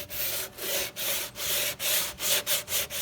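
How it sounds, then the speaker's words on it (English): Sandpaper rubs back and forth over the wooden edge of a sticking door, giving about nine rhythmic rasping strokes heard up close with no talking. "we're gonna deburr the wood"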